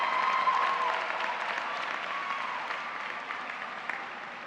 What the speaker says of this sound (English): Please join me in applauding Diamond Clark